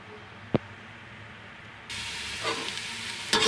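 Sliced onions fry in a pan for kadhi pakora, a soft hiss that swells into louder, steady sizzling with occasional clinks and scrapes of stirring.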